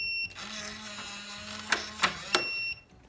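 A $35 Defiant keypad deadbolt's small, weak motor drives the bolt with a steady low whir for about two seconds, then a few sharp clicks and clacks as the bolt reaches its stop, close and fairly quiet.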